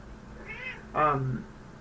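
A house cat gives two meows close by, a soft short one followed by a louder, longer one, against a quiet room background.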